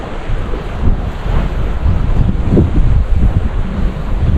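Sea waves wash against the shore at a fishing spot while strong wind buffets the microphone, a heavy rumbling roar with surging swells and no talking.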